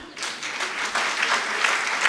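Audience clapping during a Hindi religious discourse on Jain dharma, a steady, dense burst of applause rising quickly and holding at full strength to the end, without any speech over it.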